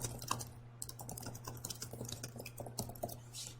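Computer keyboard typing as a quiz feedback message is entered, with steady soft key clicks at close range alongside a constant low hum.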